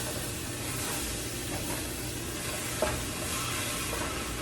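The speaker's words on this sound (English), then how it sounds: "I'm cooking some onions for a dip, so let me stir them." Onions sizzle steadily in a hot pan while a utensil stirs them, the frying hiss loud and continuous with a soft scrape partway through.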